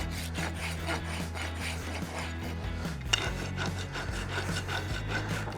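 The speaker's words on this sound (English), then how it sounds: "Now I'm not going to try and rasp it all." A farrier's rasp files the sole of a horse's hoof in a steady series of rough, scraping strokes, close and fairly quiet, with no talking.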